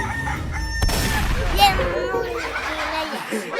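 A rooster crows amid clucking chickens in the horror video game Evil Nun, with a child-like voice and other voices chattering over a busy game background.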